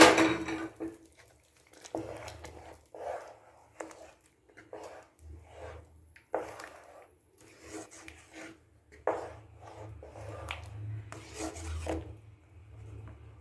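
A spoon stirring idi sambar, a Tirunelveli-style sambar, in a pot, with repeated scraping and rubbing strokes in an uneven rhythm, close and fairly loud, with no voices.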